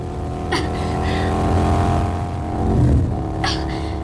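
A motorcycle revs hard and accelerates during a pursuit, its engine note rising and falling loudly and close by, with steady road roar underneath and no talk over it.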